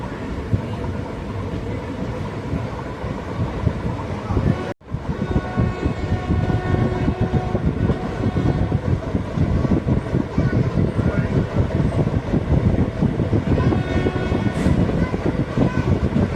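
Interior of the Madurai–Rameswaram passenger express running out of Madurai, with a loud continuous rumble and rhythmic clatter of wheels over rail joints, a brief dropout near the middle, then steady rolling noise.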